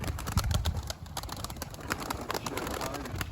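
Large pigeons cooing in a bird keeper's loft, soft repeated low coos under rustling and faint background noise, close by with no voices.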